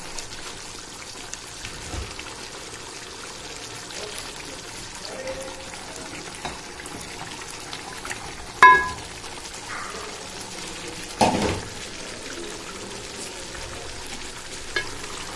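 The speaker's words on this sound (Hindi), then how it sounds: "अब मैं इसमें हड्डियाँ डाल दूँगी।" Bones dropped into a hot, sizzling pan for Delhi nihari, a constant frying hiss with a couple of sharper bursts as pieces land, heard close and with no talking.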